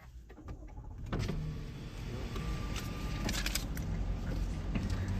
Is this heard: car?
yes